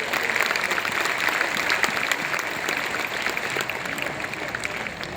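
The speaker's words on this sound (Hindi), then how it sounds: "इसलिए जोरदार ताली आप सबकी तरफ से बजनी चाहिए" An audience at a Sanatan culture festival at Bharat Mandapam, Pragati Maidan, Delhi, applauds in a steady, dense round of clapping that holds strong throughout and tapers slightly at the end.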